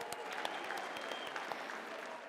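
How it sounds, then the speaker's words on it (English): Audience applause at the KZN Sport Awards 2023 ceremony, a steady wash of many hands clapping, fairly distant and even, with no voices over it. "Please give them a huge round of applause."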